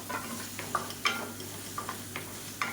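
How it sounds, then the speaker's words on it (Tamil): Long strips of sliced bell pepper sauté in a pan under a soft continuous sizzle, with scattered light taps and clicks of a spoon stirring against the metal. "குடமிளகா நறுக்கி வச்சுருக்கேன் இந்த மாதிரி நீளமாக அதையும் சேர்த்து நல்லா வதக்கி விட்டுக்கலாம்"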